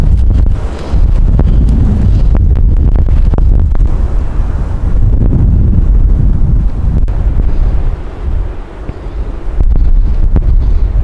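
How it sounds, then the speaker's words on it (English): Strong wind in the Colorado outdoors buffets the microphone in a loud, continuous low rumble, easing briefly before gusting up again. "the wind's picking up"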